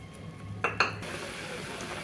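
Tamarind extract mixed with chilli, coriander and turmeric powders and salt is poured into a pot of garlic pepper kulambu: two sharp metallic clinks, then a steady rushing hiss that fills the rest.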